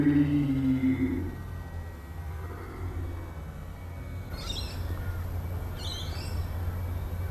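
A bird that has just dive-bombed the camera gives two harsh caw-like calls at about 4.5 and 6 seconds, close and fairly loud, over steady outdoor background rumble that follows a louder stretch at the start.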